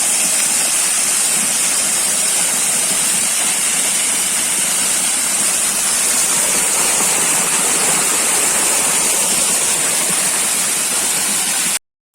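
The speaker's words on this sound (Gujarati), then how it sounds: "પાણી આવી ગયું બહાર મકાઈમાં" Water gushes steadily from a well pump's outlet pipe into a maize field, a loud, continuous broadband rush with no talk, ending abruptly.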